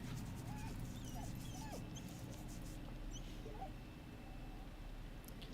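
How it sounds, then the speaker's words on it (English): A dog in Baldur's Gate 3 whimpers softly while being petted, faint thin whines and yips rising over a steady low background hum, with no talk. "Go ahead and pet the doggo."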